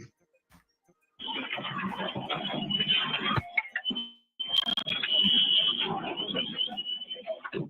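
A loud electronic fire alarm blares continuously, cuts out briefly, then resumes just as harshly, with a faint voice in the pause.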